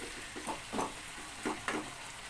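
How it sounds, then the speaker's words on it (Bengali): A spoon stirs tender pumpkin and small shrimp curry with a splash of water in a pan, giving a few soft scraping strokes over a low simmering sizzle. "এবার এটাকে ভালো করে নেড়ে চেড়ে মিশিয়ে দিচ্ছি"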